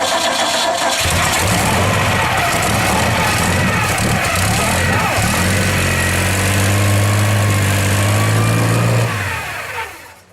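A Champ Car engine fitted with a Crossflow cylinder head runs on its first fire, a loud, continuous roar that holds steady and rises in pitch before it cuts off near the end.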